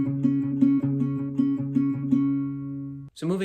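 Fingerpicked guitar intro to a song played at a quicker pace, with bright plucked notes in a steady repeating pattern for about three seconds before a brief stop and a new strum at the end.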